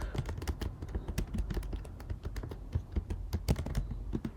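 Close, clattering keystrokes on a computer keyboard come in quick irregular bursts with brief pauses, crisp and distinct, with no voices.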